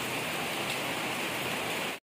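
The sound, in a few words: rain falling steadily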